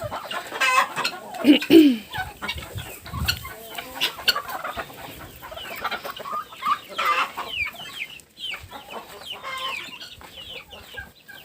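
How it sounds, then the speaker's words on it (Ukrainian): Laying hens in a backyard cluck repeatedly and irregularly close by, with occasional louder squawks among the soft clucking. "Тут курочки несуться, не будемо їм заважати."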